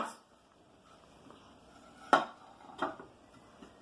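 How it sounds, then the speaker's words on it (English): A pan and plate are flipped over together in a kitchen, giving a sharp clatter of metal and crockery followed by a smaller clink, quiet and close, with no talk. "Then carefully I'm going to hold on to the pan with the handles and the plate and flip it"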